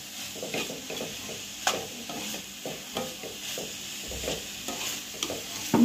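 A spoon stirs and mixes ground spices with turmeric in a pot while making paneer momos, giving repeated scraping strokes over a faint sizzle, close and moderately loud, with no talk.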